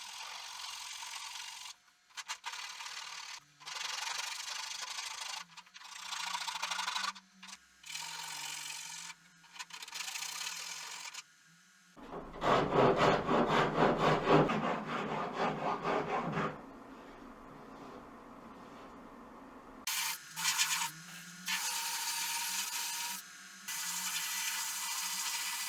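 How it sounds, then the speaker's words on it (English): Hand rasp shaping the corners of a wooden canoe stem during a wood-canvas canoe restoration, with repeated bursts of coarse scraping strokes and a longer, louder stretch of steady rasping in the middle. "So just using a rasp, I will start taking down these corners."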